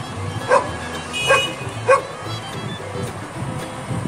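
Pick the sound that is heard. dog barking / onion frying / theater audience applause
dog barking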